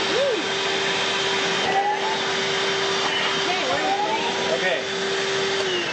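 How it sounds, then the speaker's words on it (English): A vacuum cleaner clears equipment filters aboard the Space Shuttle during the STS-54 mission, a steady close whine held for the whole stretch under cabin fan noise, with a brief spoken word. "Every couple of days, we take a vacuum cleaner and clean out the filters so the equipment will continue to run properly."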